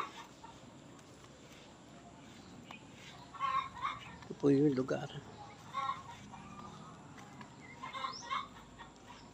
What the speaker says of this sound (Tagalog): Kasi dumadami na po yung ating yung mga manok.